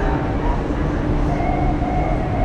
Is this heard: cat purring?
no